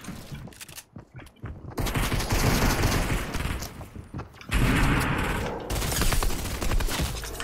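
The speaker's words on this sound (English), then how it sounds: "Three people just came in and started shooting at me, just me." Heavy gunfire in a Fortnite Solo Cash Cup match, rapid bursts of shots from several weapons close by, coming in dense volleys with brief lulls between them.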